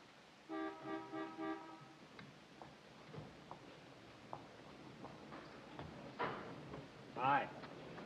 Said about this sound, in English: I heard the horn.